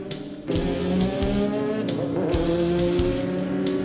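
Porsche cars at the California Speedway in Ontario, California during an annual Porsche club event: a loud, close engine roar with shifting revving tones and sharp squeals, sustained throughout.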